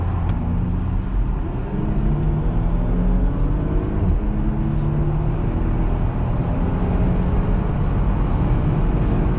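A 2019 Porsche Macan accelerates hard as it merges onto a motorway, its engine and road noise forming a loud, sustained roar inside the cabin, with a light ticking like a turn signal clicking during the first few seconds.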